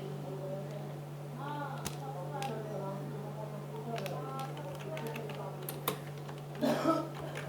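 Light clicking keystrokes on a computer keyboard tap in short scattered bursts, faint and close, beneath a steady electrical hum while someone talks throughout.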